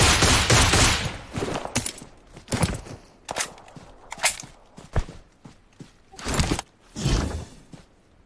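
Video game gunfire cracks out in a loud opening burst, then comes as a series of separate sharp shots and short volleys spaced irregularly over about eight seconds.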